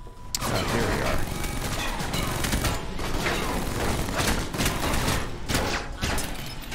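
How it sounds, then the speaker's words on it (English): Automated turrets firing in the Alpha Protocol game, a dense, continuous barrage of loud rapid gunshots with sharp impact cracks layered over the top. "Now the turrets are shooting me."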